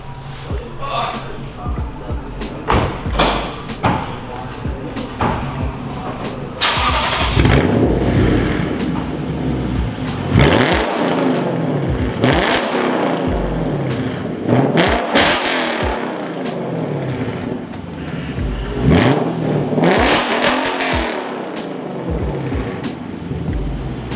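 A Lexus fitted with a MeisterShaft GTHaus exhaust fires up and is revved hard several times, each loud, aggressive blip rising and falling back to a rumbling idle close by.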